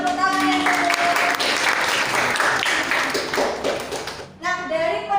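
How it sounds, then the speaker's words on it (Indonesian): Classroom applause during a teaching session, dense steady clapping from a group of students lasting several seconds, then a brief dip before the clapping and voices pick up again. "Iya, beri tepuk tangan yang kedua."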